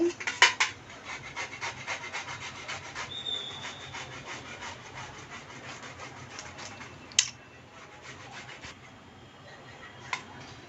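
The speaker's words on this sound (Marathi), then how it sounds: "बीट आहे ना ते मी किसून घेते" Beetroot is rubbed against a hand grater in quick rhythmic rasping strokes, close and fairly soft, slowing and thinning out toward the end with a couple of sharp knocks.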